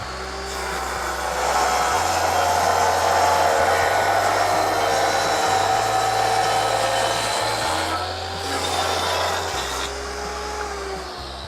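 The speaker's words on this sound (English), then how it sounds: "you want to make sure that your blade is not touching the wood when it starts" A power saw cuts through wood at a lumberyard, a loud, sustained whining motor with shifting low hum as the blade bites, running continuously with slight rises and dips in pitch and no talking.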